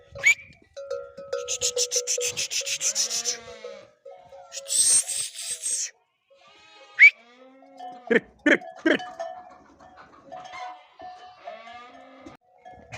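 Sheep bleat repeatedly at close range, with wavering calls overlapping, some sharp clattering knocks, and quiet stretches between bursts.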